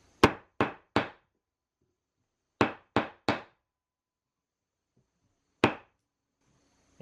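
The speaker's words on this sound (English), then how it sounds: "I'm going to use this little block of scrap and then hammer that in." A hammer strikes a scrap wood block to drive a wooden dowel into a toddler bed frame: three quick sharp knocks, a pause, three more, then a single blow, crisp and close with silence between.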